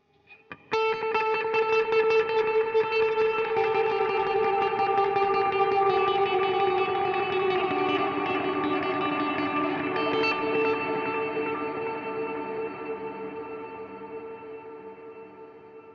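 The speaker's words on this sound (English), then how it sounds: "rhythmically pick or tremolo pick a very simple guitar line" Electric guitar playing a simple tremolo-picked line, drenched in reverb and long delay with a hint of chorus modulation; sustained, shimmering tones ring out steadily and slowly fade, with no voices.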